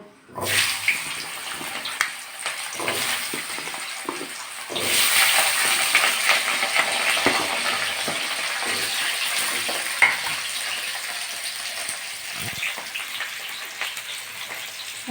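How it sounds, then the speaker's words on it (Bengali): New potatoes frying in hot oil with bay leaf in a kadai, a steady close sizzle that swells louder midway and holds, with occasional stirring clatter. "প্রথমে আমি আলুগুলো একটু ভেজে নেব যে আলু দিয়ে দিচ্ছি নতুন আলু"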